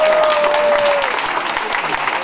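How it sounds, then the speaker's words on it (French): An audience applauds steadily on a French television talk show, dense clapping filling the room at close range, with a brief whistle-like tone early on and a voice murmuring faintly underneath. "Applaudissez Philippe."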